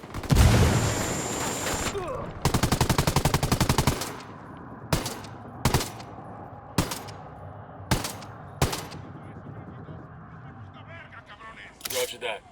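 Gunfire in the Ghost Recon Wildlands video game: a dense burst of rapid automatic fire, then a string of separate loud shots spaced about a second apart, with a final burst at the end.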